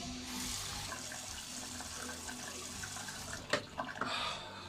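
Tap water runs steadily into a bathroom sink during a wash before beard grooming, a soft continuous hiss with a few splashes and clatters near the end, no talking.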